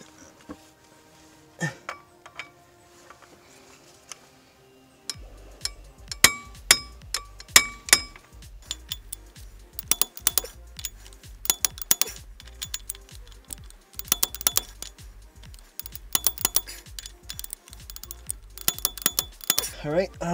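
Torque wrench on an Exedy racing clutch and flywheel install for an Eclipse GSX, giving clusters of sharp metallic clicks and ratcheting taps in irregular bursts, close and distinct, with a voice speaking at times.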